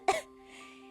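A single short, sharp cough sounds close up, then fades into quiet with a faint steady hum.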